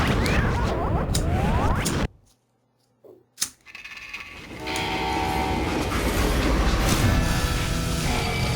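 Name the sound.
train stopping in video game Call of Juarez: Gunslinger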